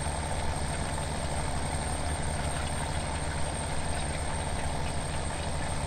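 A tractor in Farming Simulator 17 runs steadily during field work, its engine a constant low drone and rumble held at an even level, close and alone with no talk.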